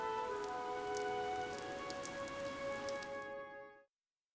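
Steady rain from the video game Fire Emblem: Three Houses, a continuous patter of drops with soft music tones layered over it, holding even before ending abruptly.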